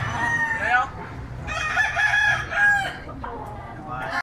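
Several gamecocks crow in turn, loud and close, with harmonic calls rising and falling over a low murmur of background noise and faint voices.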